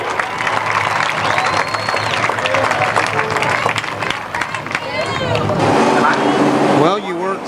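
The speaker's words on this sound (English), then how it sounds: "How about a big round of applause" Crowd applause fills the grandstands at the Columbus Motor Speedway on Memorial Day, a steady loud wash of clapping and cheering mixed with crowd noise and some talk throughout.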